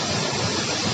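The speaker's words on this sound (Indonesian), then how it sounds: "tuh di belakang saya itulah air terjunnya sobat." Burai-Burai Luhuang waterfall at Malalak, a large cascade roaring as a loud, continuous broadband rush of falling water, close and unbroken, with no voices.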